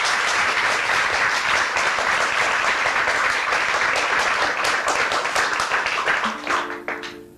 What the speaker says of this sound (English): so you can keep on clapping already